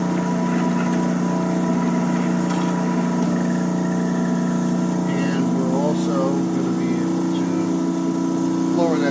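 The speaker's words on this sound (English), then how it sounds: "you'll see that the agitators are now running much slower" A triple shaft homogenizing mixer runs its agitators slowly, at about 7 RPM. A loud, steady droning motor hum holds without a break throughout, close up.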